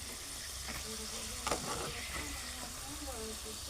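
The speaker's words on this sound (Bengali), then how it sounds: "একদম কিন্তু লাল করে মচমচে করে ভেজে নিয়েছি" Vegetable pitha fried crisp in hot oil, a faint, steady sizzle with a brief clatter of utensils partway through, while a person talks quietly over it.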